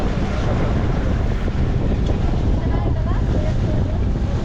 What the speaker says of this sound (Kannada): ಈಗ ಫುಲ್ ಗಾಳಿ ಎಲ್ಲ ಎಷ್ಟು ಚೆನ್ನಾಗಿ ನಮ್ಮ ಮೇಲೆ ಬರ್ತಾ ಐತಿ